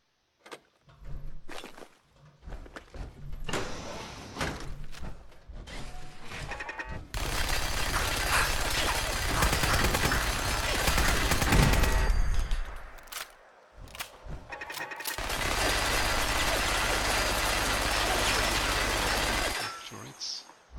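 Automated turrets firing in Fallout 4, long sustained bursts of rapid fire in two loud stretches separated by quieter moments with clanks and footsteps, a voice speaking briefly.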